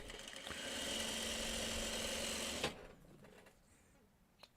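Sewing machine stitching a pair of 2.5-inch quilt squares runs in one steady, close mechanical whir for under three seconds, then stops with a click and quiet handling.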